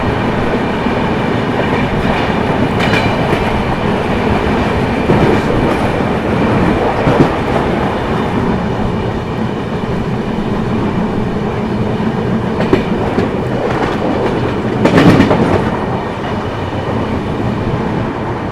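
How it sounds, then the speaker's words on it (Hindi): The Secunderabad–Hazrat Nizamuddin Duronto Express rushes past close by at high speed, a loud continuous roar with rhythmic clickety-clack of wheels over rail joints and occasional brake squeals, without any voices. "सिकंदराबाद हज़रत निज़ामुद्दीन दुरंतो एक्सप्रेस।"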